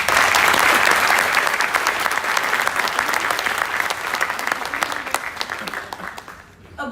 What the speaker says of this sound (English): request you to welcome our guests with a round of applause